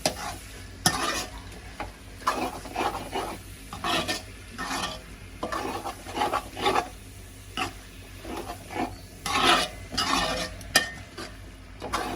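Crushed cumin and black pepper are stirred into a frying dish of goat blood or brain, bringing repeated scraping strokes of a utensil against the pan over a soft sizzle, with no talk.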